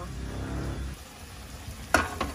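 Pork pochero boils in a covered pot, a steady low bubbling hiss for about a second before it eases off, then a sharp metallic clatter and a second lighter knock near the end; no voices.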